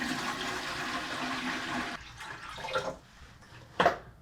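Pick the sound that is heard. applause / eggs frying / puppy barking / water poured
water poured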